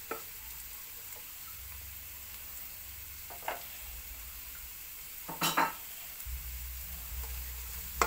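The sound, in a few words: pork hock frying with onion and garlic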